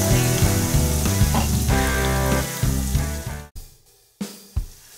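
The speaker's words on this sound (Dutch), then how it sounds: "Je bakt het geheel nog even een seconde of 30" Leftover spices with ginger and galangal frying in a pan, a loud continuous sizzle with stirring clatter and soft music underneath, then a few short sharp hisses after it cuts off.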